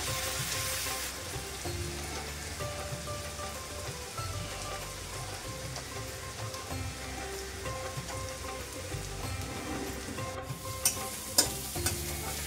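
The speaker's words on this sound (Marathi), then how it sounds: "मिरची छान फ्राय करून घ्यायची आहे आपल्याला।" Finely chopped green chillies frying in a pan, a dense steady sizzle like rain on a surface, with a few clinking stirs near the end.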